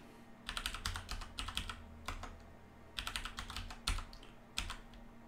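Someone types on a computer keyboard, entering a password in bursts of rapid key clicks separated by short pauses, close and fairly quiet, with no talking.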